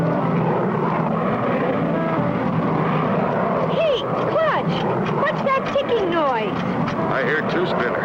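A propeller airplane from an old cartoon drones steadily throughout, loud and continuous, with a voice talking over the engine noise in the second half.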